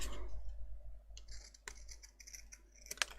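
Scissors snip off a paper lever on a nautical-themed mini album with a shutter cover, giving several soft, close clicking cuts spread over a few seconds, with a sharper snip near the end.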